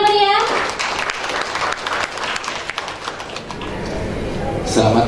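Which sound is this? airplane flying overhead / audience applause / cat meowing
audience applause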